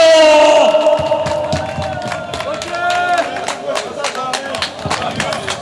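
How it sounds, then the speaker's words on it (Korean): Audience at a workshop event clapping and cheering on cue: loud crowd applause mixed with whoops and shouting voices, with a held sung or called tone at the start and people talking over the noise. "우리 성함의이을 위해서 박수 크게 한번 칩시다"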